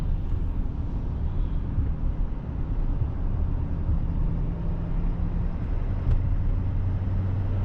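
A 2019 Sierra Denali truck cruising heard from inside the cab, a loud, steady low road and engine rumble, with a faint bump near the end as it crosses railroad tracks, no voices.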